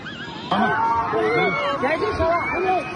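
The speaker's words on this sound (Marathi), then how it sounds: "त्यानंतर पर्यटकांमध्ये आक्रोश देखील हा सुरू आपल्याला ऐकायला येतोय" Panicked tourists after the Pahalgam terrorist attack, overlapping raised, wailing voices and cries, loud and close, continuing steadily after a sudden onset.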